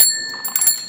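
Small bell on a Schwinn tricycle rings with bright metallic tones that linger as a sustained shimmer, then a few quick light strikes follow near the end of a one-second burst.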